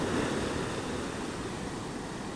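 Waves at Pantai Panjang beach in West Java roll in as a steady broadband wash of surf, with wind noise mixed in, continuous and fairly faint.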